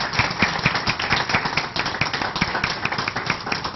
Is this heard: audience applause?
yes